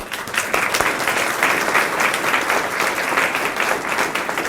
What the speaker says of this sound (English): These guys, a round of applause.